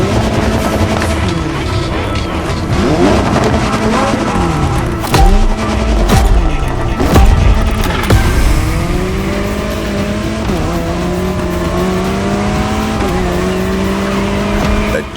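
A Jaguar C-X75 concept car driving in the racing game The Crew Motorfest: a loud, steady engine note that climbs and drops repeatedly through gear changes, with bursts of tire squeal.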